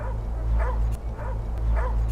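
A dog barks in a short, regular series of yips, each bark clear and fairly close over a low steady rumble in a film scene.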